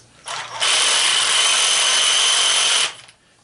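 A sawzall reciprocating saw cuts into a scrap electric motor being stripped for copper, a loud steady buzzing rasp that starts after a brief rattle and runs evenly for about two seconds before stopping.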